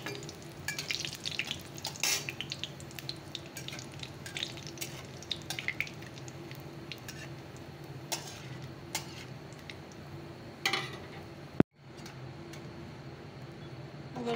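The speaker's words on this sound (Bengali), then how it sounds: "ফোড়নে একটু দারচিনি দিয়ে দিলাম, একটু শুকনো লঙ্কা" Cinnamon, dried chilli and cumin frying in hot oil for a chicken dish, a close crackling sizzle with sharp spits and pops, a short scrape near the end.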